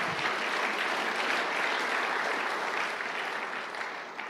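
A church congregation at a Tagalog preaching service breaks into applause, a dense, loud, continuous wash of clapping that holds steady and eases off slightly at the end.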